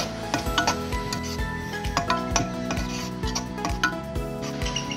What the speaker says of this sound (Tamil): இதை நல்லா வதக்கிக்கோங்க.